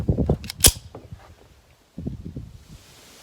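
A Bear Creek Arsenal Grizzly 9mm pistol fires one sharp, loud shot outdoors, preceded and followed by softer handling clicks and rustling, with a short burst of quieter mechanical noise afterward.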